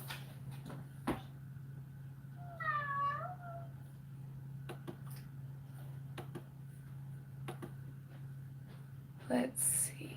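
A single rising-and-falling cat meow sounds close by indoors, standing out briefly over a steady low electrical hum, with scattered faint clicks and taps before and after it.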